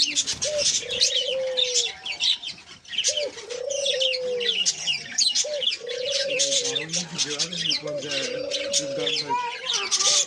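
An aviary of diamond doves, black Java sparrows and budgerigars fills the air with repeated soft cooing and a dense layer of quick chirps and twitters, all close and steady throughout.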